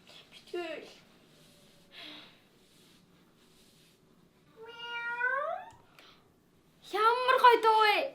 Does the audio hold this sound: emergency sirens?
no